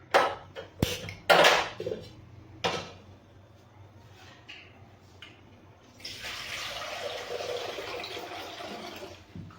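A few knocks and clatters of pots come first, then a steady gush of water pours into a pot on a gas stove for the last few seconds, close by.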